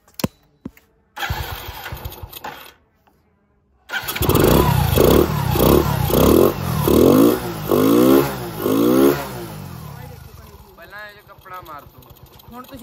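A Hero Splendor motorcycle with its air filter removed is started: a few short cranking bursts and a pause, then the engine catches and runs with loud, pulsing revs before easing to a rougher idle, close up.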